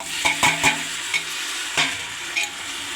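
Onions sautéing in a pan, a steady sizzle punctuated by several sharp clinks and scrapes of a spoon stirring against the pan, close and fairly loud.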